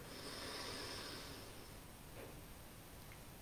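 A deep inhale during a pranayama breathing exercise, a steady airy breath drawn in alone and close, fading after about a second and a half.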